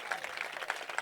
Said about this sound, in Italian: Fate un applauso a Tahir e Carmelo